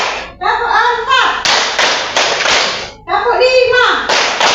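A grade five class claps in unison, a few sharp group claps between stretches of children chanting the count aloud, close and loud in a classroom.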